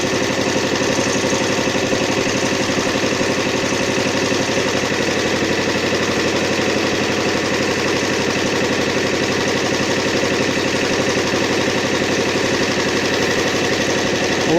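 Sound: homemade inverter generator running

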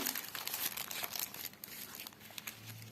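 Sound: crinkling paper surprise packet of Num Noms toys

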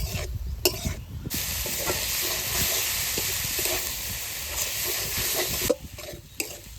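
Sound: greens being stir-fried in a wok

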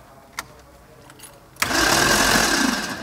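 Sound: car engine cranked by starter motor without compression

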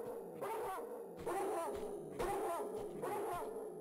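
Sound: dog barking in the video game Tomb Raider 2

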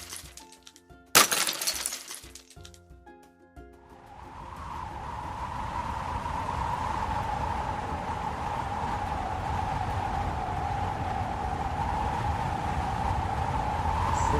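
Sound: icicle falling from roof and shattering

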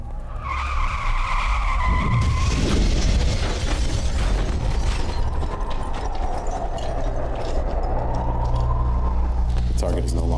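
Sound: car accelerating to high speed and skidding

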